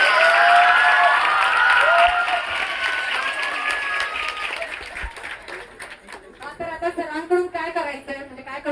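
Children clap at a school event, a loud sustained round of applause that gradually thins into scattered claps while a voice speaks over it.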